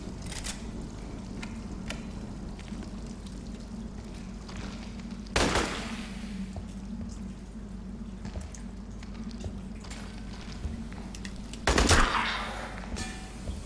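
Gunfire in the video game Aliens: Colonial Marines: two sharp, loud bursts several seconds apart cut through a steady low droning background, with no talking.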